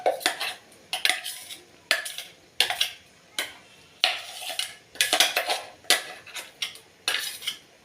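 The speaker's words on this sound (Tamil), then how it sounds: "ஆட் பண்ணி நல்லா கிளறி விட்டுக்கலாம்." Spoon scraping and clinking against a pot in a steady series of about a dozen short strokes while ground coconut, roasted gram and urad dal paste is stirred into country chicken rasam, close and clear with no talk.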